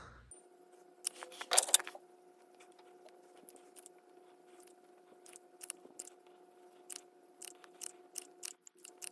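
An old, partly dried caulk tube nozzle being cut, a cluster of close crunchy snips near the start followed by scattered light clicks and taps over a faint steady hum, with no talking.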